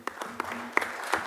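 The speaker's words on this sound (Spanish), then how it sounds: "Un aplauso para él." Audience applause at a news panel, light scattered claps for just over a second, fairly faint with a few sharper individual claps.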